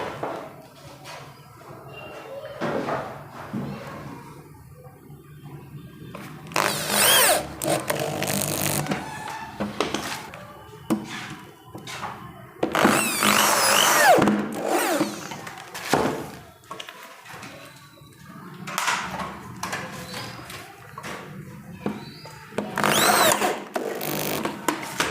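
Power drill driving screws into 12 mm plywood to fix a Hettich Tandem Box drawer runner in a marble kitchen, loud whirring bursts of a few seconds each, separated by quieter handling knocks and clatter.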